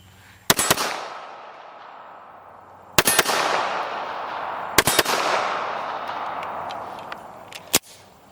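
Shots from a Nighthawk Custom Predator II .45 ACP handgun: a sharp double shot, then single loud shots and a close pair, and a final crack, each cracking near and ringing with a long reverberant tail.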